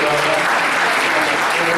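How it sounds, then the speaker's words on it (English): A crowd applauds steadily and loudly, a dense wash of clapping with faint voices mixed in underneath. "let's give him a round of applause"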